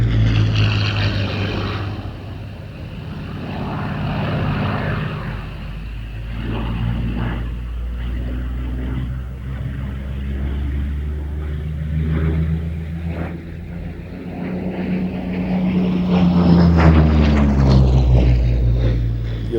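Spitfire fighter aircraft during an airshow display, its piston engine a loud continuous drone that rises and falls in pitch as it passes, swelling toward the end.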